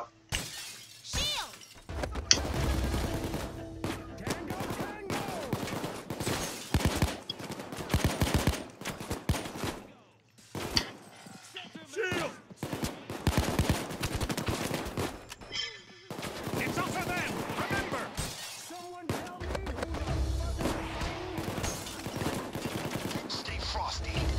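Dense gunfire from the video game Payday 2 during a jewelry heist: loud bursts of rapid automatic shots and shattering glass, with brief lulls, and voices shouting in the background.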